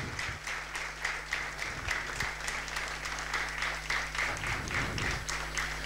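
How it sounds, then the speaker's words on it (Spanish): A church congregation applauds during a Spanish-language sermon, a steady wash of many hands clapping together for several seconds, fairly close and full, with a low hum underneath. "Denle un aplauso al Señor por eso"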